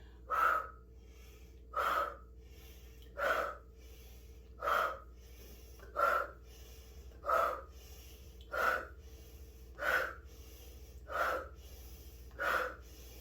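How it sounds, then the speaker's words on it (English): Ten sharp, forceful breaths blown out through the mouth during yoga breathing, belly squeezed in, at a steady rhythm, about one every second and a half, close and alone with no talking. "Exhale, blow through your mouth, squeeze the belly in and rock back."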